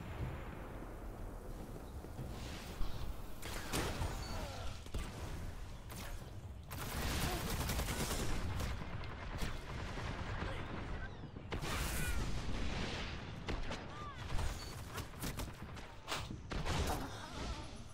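Grenade blast and bursts of gunfire in a competitive shooter match, loud and continuous, dense layered explosions and rapid shots with occasional heavy thumps throughout.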